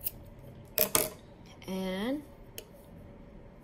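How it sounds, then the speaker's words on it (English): A pair of scissors snips crochet yarn, two quick close metallic cuts near the start, followed by a brief pitched tone and a faint click, with a voice speaking briefly. "Take your pair of scissors."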